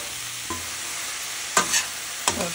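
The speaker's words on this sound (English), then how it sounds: "So it's cooking down and sauteing down now." Ground beef sauce for a homemade tomato and meat lasagna sizzles steadily in a pan, with a few quick stirring scrapes breaking through the constant frying hiss.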